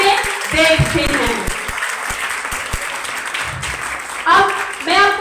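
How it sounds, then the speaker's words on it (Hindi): Congregation at a church service claps for Jesus Christ, scattered hand claps under a woman's continuing speech, fading in and out. "आइए खुदा यीशु मसीह के लिए जोरदार तालियां बजाएं"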